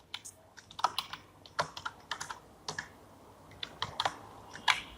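Brisk typing on a computer keyboard while writing Python code, a quick irregular run of crisp key clicks with brief gaps, close and clear with no voices.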